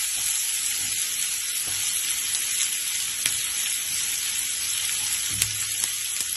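Cumin seeds and asafoetida frying in hot oil in a pan for dhaba-style chana masala, a steady bright sizzle with occasional soft pops, close and continuous without speech.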